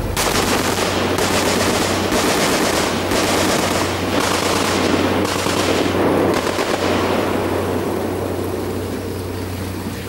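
A twin .50 caliber machine gun mounted forward on a gunboat fires in loud sustained bursts, about six rapid volleys spaced roughly a second apart over a steady low engine drone, with no talk.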